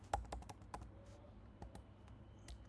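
A handful of crisp, separate keystrokes on a computer keyboard while code is typed, close and fairly quiet, spaced irregularly with no voices.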